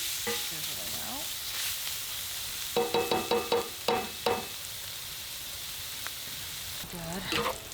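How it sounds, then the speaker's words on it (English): Chorizo sizzles and fries steadily in a pan inside a hot tent during winter camping in a snowstorm, with a run of sharp utensil stirring and scraping clatters partway through. "And the chorizo itself is sizzling out."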